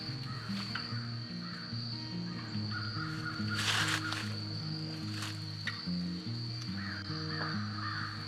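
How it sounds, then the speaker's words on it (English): Crows caw repeatedly outdoors in rural Shirley, Arkansas, loud harsh calls in an irregular series over steady background hum, no one talking. "The crows are coming to tell us something."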